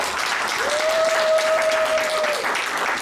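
Church congregation applauding, a steady wash of clapping and cheering at moderate distance, with a brief sustained tone sounding above it midway.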